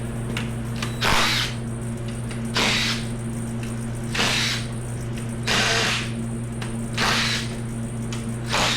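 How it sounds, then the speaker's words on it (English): A battery power tool spins off oil pan bolts on a Ford 5.4 2V V8 engine, sounding in short repeated whirring bursts roughly every one to one and a half seconds over a steady hum. "Get the rest of the pan bolts off."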